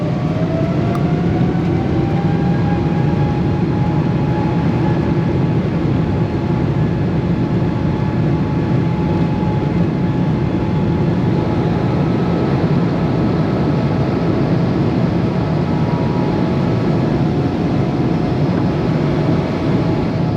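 A Japan Airlines Boeing 777 taxiing and taking off from Narita, heard from inside the cabin as a loud, continuous engine roar and rumble with a rising whine, no talking.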